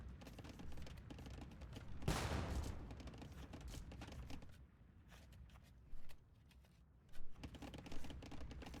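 Organ guns firing in a strategy video game: a dense crackling volley of rapid shots that swells loudly, then thins into scattered bursts and sputters.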